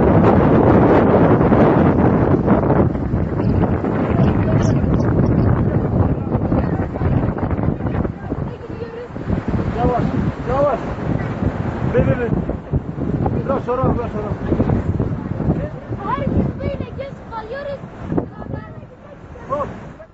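Strong wind buffets the microphone in loud, rough gusts outdoors near a stream crossing, fading somewhat after the opening seconds as someone speaks over it.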